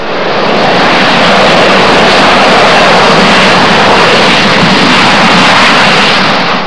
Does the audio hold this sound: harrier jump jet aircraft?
yes